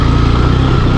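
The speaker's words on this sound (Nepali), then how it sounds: "बाइक यता छेउबाट जानु पऱ्यो" A motorcycle travelling on a wet, potholed road after rain gives a loud, close, steady engine drone with a low rumbling pulse for a moment, no voices.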